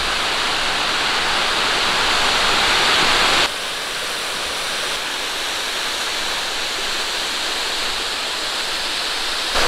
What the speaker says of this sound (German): Wir haben es endlich geschafft, da ist der Wasserfall.